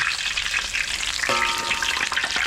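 Steady, crackling sizzle of pork frying in very hot oil for crispy pork, close and loud, with a bubbling, hissing texture throughout and no talking.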